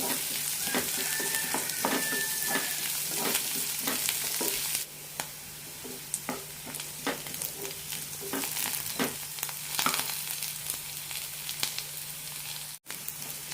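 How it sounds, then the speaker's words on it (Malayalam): Sliced onions with green chilli and curry leaves sauté in a pan for a lady's finger curry, a steady close sizzle with frequent stirring scrapes and small pops throughout. "സവാളയുടെ കൂടെ തന്നെ പച്ചമുളകും കറിവേപ്പിലയും കൂടി ഇടാം സവാള നന്നായി ചോക്കുന്നതുവരെ വഴറ്റാം"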